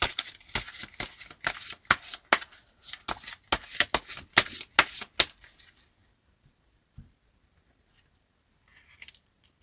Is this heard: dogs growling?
no